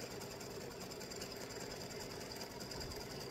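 A sewing machine runs steadily, stitching an open zigzag over fabric layered with faux vinyl or felt; a constant close mechanical whir and rattle continues throughout with no pauses or voices.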